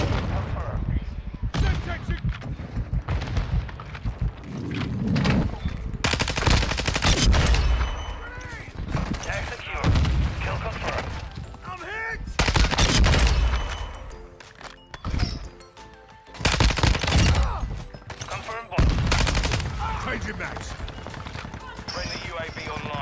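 Bursts of M14 rifle fire in Call of Duty: Modern Warfare 2 crack out in loud, repeated clusters with brief pauses between volleys, mixed with other in-game gunfire and impacts.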